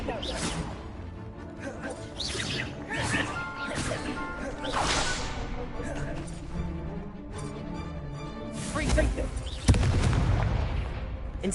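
Incendiary spell blasts in Hogwarts Legacy go off repeatedly amid a dense mix of whooshes and crashes, ending in a heavier booming burst near the end.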